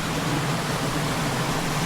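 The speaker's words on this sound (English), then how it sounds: "that noise almost takes over when I get closer to the waterfall" Steady broadband rushing roar of a waterfall captured up close by an Insta360 X4 360 camera, a dense unbroken wash of noise filling the whole clip with no voices.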